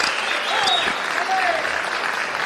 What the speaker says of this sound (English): And listen to the round of applause